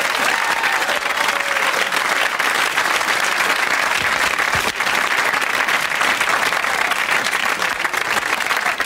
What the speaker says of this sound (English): A big round of applause for Alan Davis and the cheeky foul-mouthed fox.